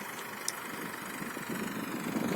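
A tractor engine runs in a rice paddy field at sowing time, a steady mid-distance idling rumble that grows slightly louder toward the end, with no speech.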